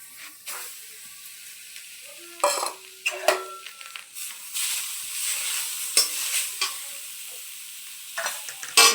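Grated coconut being stirred in a pan with a spoon for coconut sweets, producing soft scraping and intermittent sizzling hiss with occasional utensil clinks against the pan, close and moderately loud.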